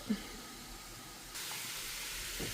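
Papaya steaming inside a closed pressure cooker with no added water, a steady soft hiss of escaping steam that grows louder partway through and holds on at low level.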